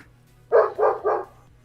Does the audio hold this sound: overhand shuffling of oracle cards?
no